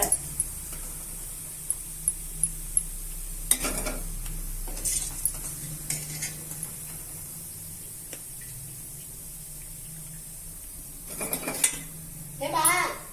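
Fried raw banana kola balls shifted from the pan into another vessel, with scattered sharp metal clinks and scrapes of a ladle against pots, several brief knocks spaced apart over a quiet kitchen background.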